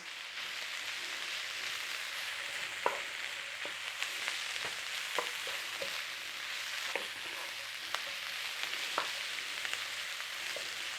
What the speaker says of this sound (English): Get our leaves in, start wilting it down.